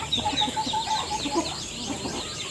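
Chickens clucking softly with a few higher chirps from chicks mixed in, several birds close by on a small farm in a steady scattered chatter.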